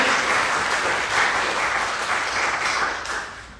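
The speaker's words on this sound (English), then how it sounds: "Give them a round of applause for their accomplishments, right?" An audience at a panel discussion applauds steadily, a dense wash of clapping filling the room with no speech over it.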